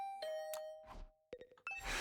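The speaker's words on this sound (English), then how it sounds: "Hearing the doorbell steadily ring again and again, I finally got up." In a video game, a doorbell chimes repeatedly, several bright tonal dings with short pauses between them, clear and alone over a quiet background.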